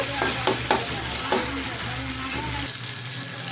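Tomatoes sizzle and fry in hot oil in a pan for a spicy village-style crab fry, with steady crackling broken by several sharp scrapes and knocks of the stirring spoon before the sizzle softens toward the end.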